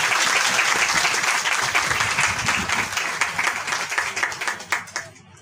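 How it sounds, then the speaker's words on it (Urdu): Loud applause from a church congregation at an evangelistic service fills the space with dense clapping, then thins into scattered, fading claps near the end. "آئیے ذبح کیے ہوئے برے کے لیے زوردار تالیاں بجائیں"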